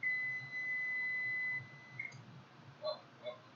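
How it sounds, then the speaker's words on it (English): An oven timer emits a long, steady electronic beep lasting about two seconds, followed by a couple of short, fainter chirps, heard alone in a quiet kitchen. "So the oven, the timer's just about to go off,"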